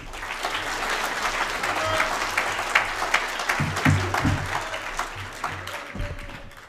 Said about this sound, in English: Please welcome him with a round of applause, Mr. Ajmal Masroor.